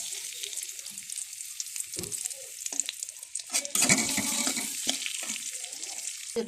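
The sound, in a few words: onion and garlic frying in oil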